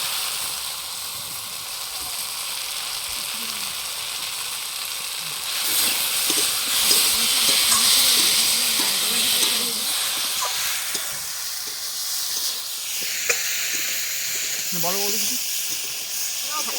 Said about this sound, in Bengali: রান্না করছি গ্রামের বাড়িতে এসে মাছ দিয়ে